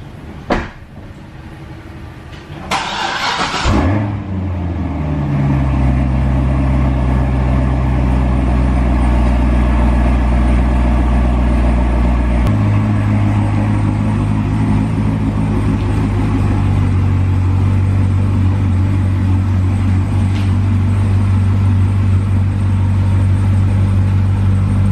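A Corvette ZR1 engine starts with a sharp turnover, then idles steadily and low, its rumble shifting in pitch partway through as it is put in gear to back out of a driveway.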